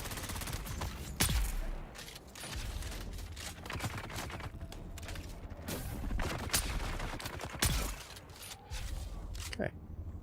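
Grenades and gunfire in the video game Dune: Awakening, several sharp blasts at irregular intervals over a dense, continuous din of combat, loud and close, with talk underneath.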